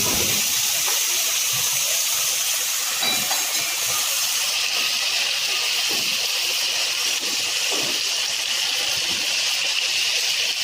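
Meat for a Peshawari beef karahi going into hot oil with browned garlic and ginger, giving a loud, steady, close hiss of sizzling that holds throughout with faint clatter underneath and no voices.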